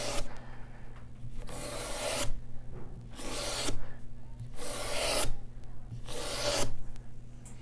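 A blade skiving a leather belt strap, shaving off thin even ribbons in repeated rasping strokes, about five broad scraping passes with short pauses between, close and fairly loud over a steady low hum.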